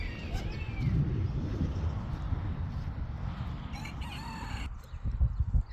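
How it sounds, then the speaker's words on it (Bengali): A rooster crows among clucking native chickens and ducks at a poultry pen on a desert farm in Saudi Arabia, heard at moderate distance over steady low rustling and background noise. "সব দেশি হাঁস মুরগি এখানে"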